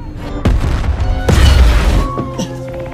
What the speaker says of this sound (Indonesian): bom itu langsung meledak dan membuat semua anggota di dalamnya tewas seketika